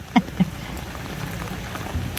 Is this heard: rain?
yes